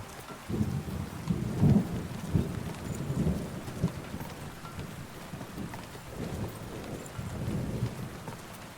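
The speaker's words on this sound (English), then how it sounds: "Man, bit of a windy, stormy day." Thunderstorm in a video game: heavy rain pours steadily while deep thunder rumbles swell and fade in loud waves, with wind blended in and no voices.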